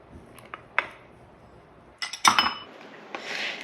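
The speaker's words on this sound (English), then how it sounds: "And we're going to mix this until combined." Sisig ingredients being stirred together in an Instant Pot with fried garlic, red onion, salt and pepper: a few scattered clinks of a utensil against the pot, then a louder burst of scraping and clattering, close and with no talk.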